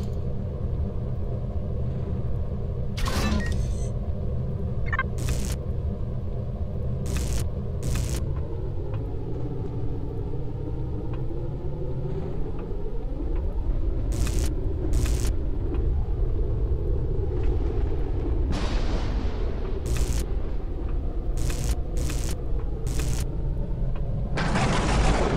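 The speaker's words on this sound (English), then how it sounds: "Kind of stormy outside, doesn't it?" Deep, continuous rumbling of stormy weather outside a base in the space survival game Empyrion fills the scene, overlaid by a series of sharp clicks and short mechanical bursts at irregular intervals, with no talking.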